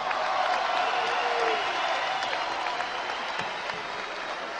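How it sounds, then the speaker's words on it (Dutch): A crowd at a fight event claps steadily for the fighter Joop van Kasteel, dense sustained applause with faint cheering mixed in, loud and even throughout. "Jullie applaus voor Joop van Kasteel."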